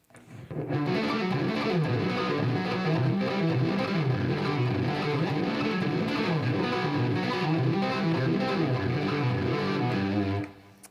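Distorted electric guitar plays fast, continuous arpeggios with a chorus-like shimmer, loud and steady for about ten seconds.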